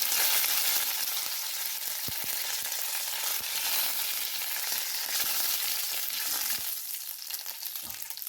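Cumin seeds and curry leaves fry in hot oil in a pan, a loud, dense, crackling sizzle with scattered pops that eases slightly toward the end, close and alone.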